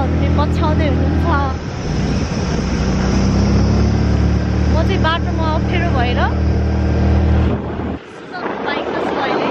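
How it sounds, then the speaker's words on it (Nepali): Motorbike or scooter riding along a rough road, a steady loud engine drone and rumble running throughout under continuous conversation, briefly dropping out near the end. "बाइकमा छु अहिले"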